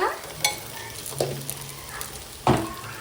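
Ginger garlic paste sizzles with onions in a pan for mutton curry, a steady frying hiss broken by a few stirring scrapes and clinks of a spoon.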